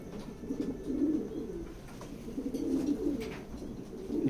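Pigeons coo softly and repeatedly in a loft of racing birds kept for sale, low rolling calls rising and fading in overlapping phrases close by, with no talk.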